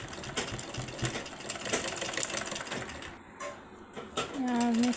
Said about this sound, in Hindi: इस तरीके से पूरे नेक में हमें सिलाई लगानी है।